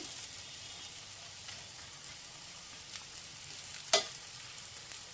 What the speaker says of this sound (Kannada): ಎರಡು ಸೈಡು ನೀಟಾಗಿ ಸ್ವಲ್ಪ ಚೆನ್ನಾಗಿ ಫ್ರೈ ಆಗಿದೆ ಈ ರೀತಿ ಸ್ವಲ್ಪ ಅಡ್ಜಸ್ಟ್ ಮಾಡಿ ಮಾಡಿ ಎರಡು ಸೈಡು ತಿರುಗಿಸಿ ಬೇಯಿಸ್ಕೊಳ್ಳಿ